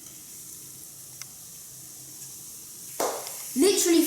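Beef steak for tagliata dropped into a hot pan, a sudden loud sizzle that swells into a steady frying hiss near the end, close by, after a quiet stretch of low room noise.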